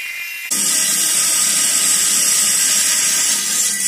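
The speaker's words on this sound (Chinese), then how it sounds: "二话不多说，这一个先切开看看，一个一个来。" A powered cutting saw slices open a found stone, starting abruptly as a loud, steady high-pitched grinding whine that holds constant for several seconds with no voices.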